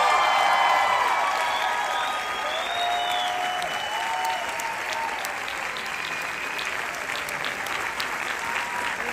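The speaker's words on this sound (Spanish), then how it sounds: "Un fuerte aplauso para María León," A theatre audience applauds at a celebration of 100 performances of the play El mago, dense, sustained clapping with some cheering that swells at first, then holds steady.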